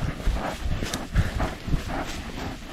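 A tired horse on a cattle pasture walking with clear, fairly close hoof clip-clops in an uneven repeating rhythm, heard alone without talk.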